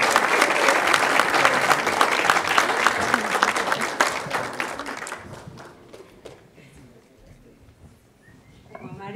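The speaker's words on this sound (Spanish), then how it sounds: "Un aplauso para Mari" A theatre audience gives loud, dense applause for a choir member and the choir at a cinematheque event, fading after about five seconds to scattered claps and quiet room noise.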